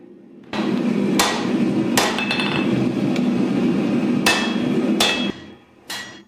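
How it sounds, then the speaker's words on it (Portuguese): A San-Mai Damascus steel kukri blade is forged under a press while its central section is thinned: a loud, steady mechanical drone broken by sharp metallic clanks at irregular intervals, ending in a brief pause and one last knock. "levo a prensa e começo a afinar a parte central"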